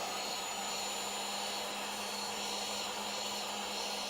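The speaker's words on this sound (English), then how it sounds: "we're gonna do is just add a little bit of heat to the back side of the screen, not the front" A hot-air tool blows heat onto the back of an iPhone 13 Pro screen, a steady faint whirring hum with a constant tone and no talking.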